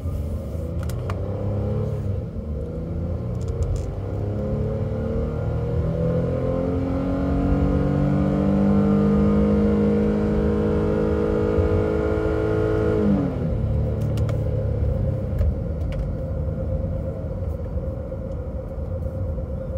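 A Honda V6 car accelerates hard in second gear toward 6,000 RPM, its engine note climbing steadily in a loud, close drone before dropping off as it shifts, with road rumble throughout.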